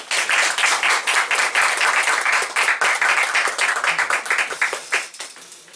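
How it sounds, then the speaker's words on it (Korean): An audience at a Christian professors' worldview forum gives loud, even applause in a hall to welcome Professor Lee Seung-gu, fading toward the end. "우리 이성구 교수님 나오실 때 우리 크게 우리 박수 한번 하겠습니다."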